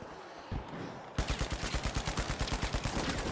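Rapid automatic gunfire from the video game The Finals starts after a short lull of quieter game noise, then runs as a steady, evenly spaced string of loud, close shots to the end.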